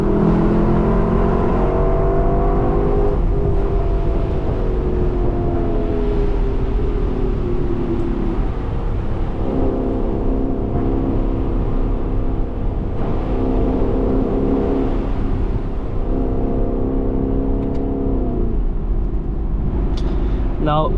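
A Lexus LC500 sports car engine hums and surges steadily while driving through canyons with the roof down, with wind noise throughout and occasional gear changes.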